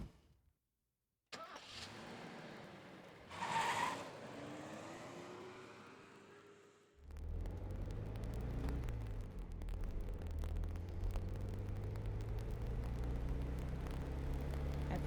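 A car engine in the video game Death Mark cranks and catches after a brief silence, then settles into a steady mid-pitched hum as the car pulls out of a deserted parking lot and drives off.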